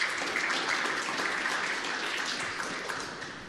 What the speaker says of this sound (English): let's give one more round of applause for everybody to come up and doing that